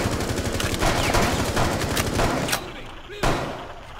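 Gunfire rattles in Rainbow Six Siege, with rapid bursts and sharp single shots in a house map, loud and close, while players talk over the shooting.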